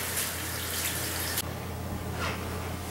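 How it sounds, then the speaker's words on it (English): Tap water runs steadily into a sink as hands are rinsed off during bread making, a broad hiss that cuts sharply to a quieter trickle partway through, with a low hum underneath. "rinse my hands off"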